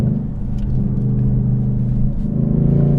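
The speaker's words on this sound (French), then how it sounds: "Oh, cet échappement, c'est la guerre." A Mercedes C63 AMG Black Series engine and exhaust rumble deep and loud from inside the car, a steady low growl that swells slightly as it pulls, with no talk.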